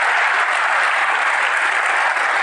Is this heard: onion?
no